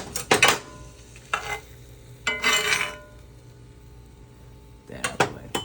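Loose Italian sausage meat browns in a pan with a soft steady sizzle, broken by several clattering scrapes and knocks of a utensil stirring and breaking it up.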